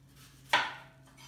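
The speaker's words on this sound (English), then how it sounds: "I like to cut the ends off first." A knife cuts the end off an apple, giving a single sharp close chop against a board that fades quickly into quiet.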